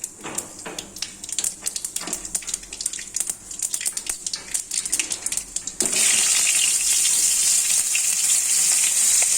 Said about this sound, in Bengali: সর্ষে ফোড়ন দিয়ে দিলাম